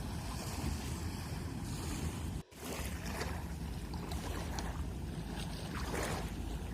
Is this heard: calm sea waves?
yes